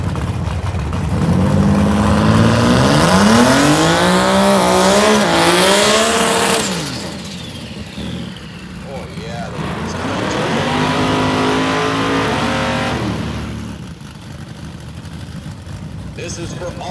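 Drag racing cars, one of them a Datsun, scream with rising engine revs, loud and near, then fade before a second car surges past; an announcer talks over the noise.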